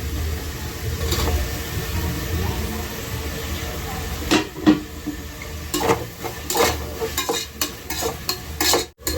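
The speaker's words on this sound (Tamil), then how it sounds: "இது கூட வந்து நான் கட் பண்ணி வச்சுருக்க தக்காளி போட்டுக்கிறேன்" Chopped tomatoes go into a pan of sautéed ginger-garlic paste and hit the hot oil, raising a lively sizzle. Repeated scraping and clinking of a spoon against the pan follow in bursts, close and prominent.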